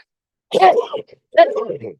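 A person sneezes twice in quick succession, close and fairly loud, with a short pause between them.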